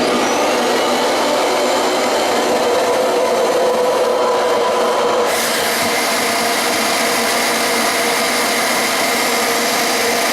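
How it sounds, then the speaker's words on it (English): A shop vacuum pulling strong suction on a clogged drain line of a GBM 3800 machine, a loud, continuous roaring whine whose tone shifts midway as the clog clears. "My vacuum puts such a strong suction, -5 psi, that it's able to draw out everything from in that line there"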